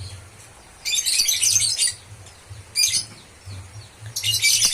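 A female lovebird gives rapid, high, chattering chirps in three loud bursts, close by, separated by brief pauses over a low hum.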